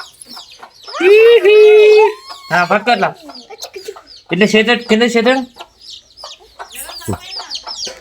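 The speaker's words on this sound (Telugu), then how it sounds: "మనోడు తీసుకొని వచ్చాడు కోడిపిల్ల" A young chicken at a village home calls out loudly and close by, in several separate bursts of clucking and squawking with quieter gaps between them.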